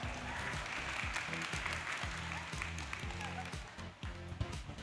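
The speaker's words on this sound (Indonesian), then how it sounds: "Kita sambut dengan tepuk tangan, Kania Cita Irlani" An audience applauds to welcome a speaker onto the stage, a steady wash of clapping over background music with a rhythmic beat, continuing for several seconds.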